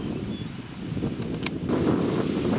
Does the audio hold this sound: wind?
yes